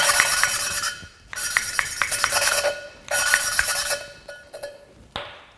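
An engine valve being lapped by hand against its cylinder head seat, giving gritty rasping rubbing strokes in bursts of about a second with short pauses between, close and moderately loud, with no talking.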